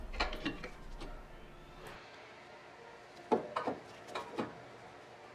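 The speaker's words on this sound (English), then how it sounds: "you will be able to remove the caliper from the rotor" Brake caliper being pulled off the rotor on a Ford Mustang, with scattered metallic clicks and clunks, a couple of sharper knocks near the end, close and fairly quiet with no talk.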